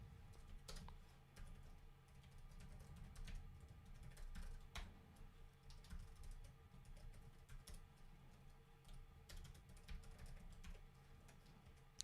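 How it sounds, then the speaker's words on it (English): Steady computer keyboard typing while code is written for Advent of Code puzzles, a continuous run of close, quick clicking keystrokes with irregular rhythm and occasional louder strikes, with no talking. "That's a lot of typing."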